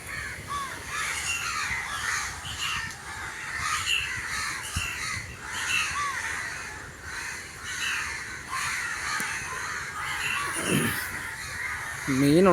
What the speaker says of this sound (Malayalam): മീനുള്ളതുകൊണ്ടൊക്കെ ഈ കാക്ക കിടന്ന്